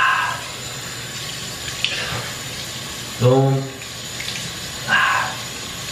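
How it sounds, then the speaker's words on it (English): Tap water running into a bathroom sink for face washing, a steady splashing stream throughout, with brief voiced sounds and a short word in the middle, close and moderately loud. "You're gonna get a little bit of water."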